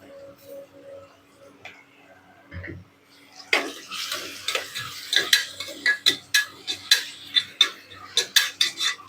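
Onions are sautéed in a pan for mutton biryani. After a quiet start, a spatula taps and scrapes against the pan in a quick, rhythmic run of close clicks.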